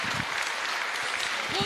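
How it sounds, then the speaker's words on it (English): Awards audience at the Dyslexia Awards giving a round of applause, a soft continuous patter of clapping with a voice speaking over it at the start and end. "Round of applause."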